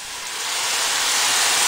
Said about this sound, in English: right now you can hear the onions kind of sauteing